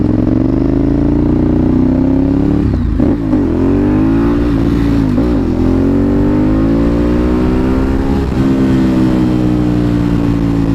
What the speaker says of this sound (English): he just flew past me and did a crappy wheelie